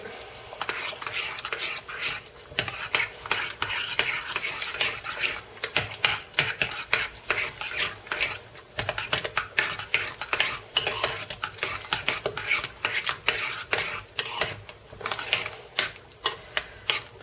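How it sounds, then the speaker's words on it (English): A spoon stirring a beanie weenie mixture seasoned with a pinch of cayenne pepper, producing repeated scraping and clinking strokes against the pot in an uneven rhythm, close by and moderately quiet. "Stir this up."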